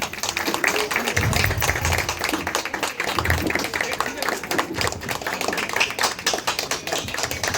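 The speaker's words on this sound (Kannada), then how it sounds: "ಜೋರಾದ ಚಪ್ಪಾಳೆ ಬರಲಿ." An audience at a Rajyotsava celebration claps loudly for a felicitation, a dense, continuous patter of many hands that goes on throughout, with voices mixed in.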